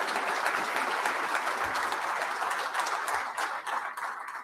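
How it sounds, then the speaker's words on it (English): Sustained applause from an event audience at a lunchtime history talk on Senator Thad Cochran's life and legacy, steady and full for several seconds before thinning slightly toward the end. "Let's give them a round of applause."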